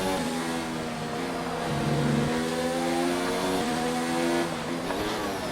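F1 2019 race car in an Australian Grand Prix video game over-revving on a money shift: a loud, continuous engine whine that climbs in pitch, strains at the top, then drops away, with no talking.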